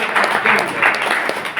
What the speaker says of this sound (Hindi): अब मैं आपको जोरदार ताली दीजिए